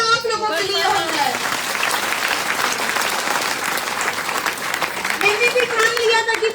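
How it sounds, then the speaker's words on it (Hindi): Audience applause at a motivational business seminar, a dense wash of clapping that swells and holds for several seconds, with a voice speaking over the start and end. "तो एक तालियां आप लोगों के लिए हो जाए"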